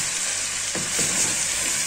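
Food frying in a pan on a home stove, a steady bright sizzle with a brief stirring scrape partway through, close and continuous with no talking.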